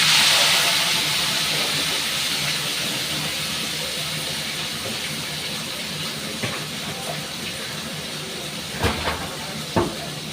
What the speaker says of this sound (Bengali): গরম হয়ে গেছে, এবার এর মধ্যে আমি আলু মটর আর টমেটোটা দিয়ে দিচ্ছি।